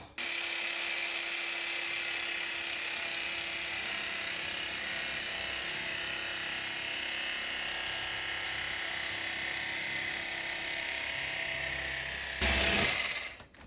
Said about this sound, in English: what I found works best for cutting these loaves, good old electric knife